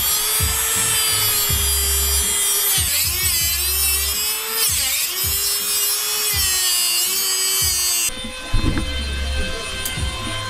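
A power drill bores a hole into a Jeep, a loud, steady whining grind close up with brief changes in pitch as the bit bites into the metal.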